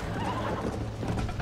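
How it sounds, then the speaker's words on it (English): A horse in the video game Red Dead Redemption neighs and snorts amid steady hoofbeats and game noise, a continuous loud whinnying texture over low rumble with no talk. "Oh, the horse is getting pissed."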